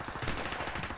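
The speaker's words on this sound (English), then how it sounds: "Now there's a shotgun. One shot kill." Gunfire from the video game Call of Duty Modern Warfare Remastered, with a shotgun in play: dense, continuous burst of loud shots filling the whole moment, no voices over it.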